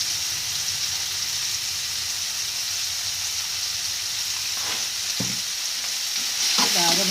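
Tomatoes frying in a pan give a steady hiss, then a few scraping stirs sound close toward the end, with the sizzle swelling slightly afterward and no voices.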